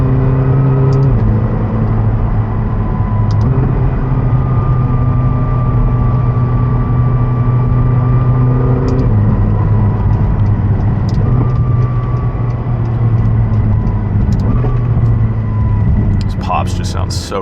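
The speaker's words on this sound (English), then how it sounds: "Pops just sounds so good." A McLaren 720S cruising the Pacific Coast Highway at sunset, its engine holding a loud, steady drone with shifting pitch, scattered sharp exhaust pops and crackles, and a cluster of pops near the end.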